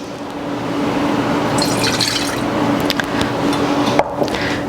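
Water streams steadily into a pot of lemonade being mixed from lemon juice and hot water, a continuous close pouring wash with small splashes and a clink near the end, no voices.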